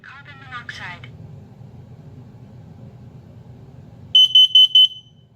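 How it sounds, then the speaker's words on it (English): A Kidde P3010CU combination smoke and carbon monoxide alarm speaks a short recorded voice warning over a low hum, then sounds four loud, sharp, evenly spaced piercing beeps. "Warning, carbon monoxide."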